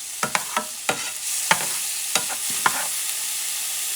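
Tomato, chopped olive and other lamb stew ingredients are stirred in a frying pan, with a spoon scraping close up in a series of sharp, irregular strokes and a soft sizzle underneath.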